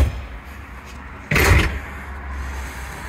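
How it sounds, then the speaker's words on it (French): A door in a Bavaria motorhome swings shut on its own, giving one sharp, fairly loud bang against a quiet interior. "La porte s'est fermée toute seule."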